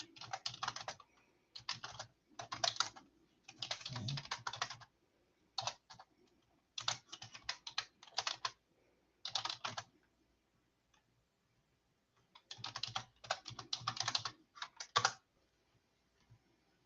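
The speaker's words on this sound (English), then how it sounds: "I'm going to type this." Rapid keystrokes clatter on a computer keyboard in several irregular bursts separated by short pauses, close and quiet with no speech.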